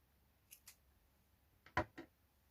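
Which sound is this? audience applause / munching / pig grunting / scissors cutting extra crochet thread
scissors cutting extra crochet thread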